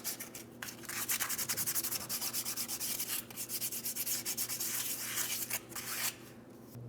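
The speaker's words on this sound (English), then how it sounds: "Fine sandpaper." Steady back-and-forth rubbing of fine sandpaper on a drive shaft flange of a 2007-2014 Ford Edge 3.5L V6, close and moderately loud in rhythmic strokes for several seconds, then trailing off.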